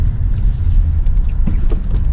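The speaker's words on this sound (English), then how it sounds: "those motor bearings were squeaky, as you heard" Worn motor bearings in a make-up air unit squeak and creak over a loud, steady low mechanical rumble, close and continuous with brief higher squeals.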